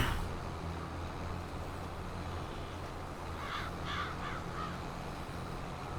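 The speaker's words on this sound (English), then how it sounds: "Get out of the way, crows." Several crows caw from a Farming Simulator 22 field on the Erlengrat map, a short run of harsh calls partway through, heard over a steady low drone of farm machinery.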